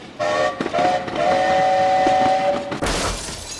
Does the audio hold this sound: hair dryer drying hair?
no